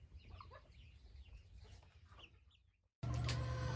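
Hens squabble over a nest with agitated clucking and squawks, close and fairly quiet, ending in a short silence and then a sudden louder burst.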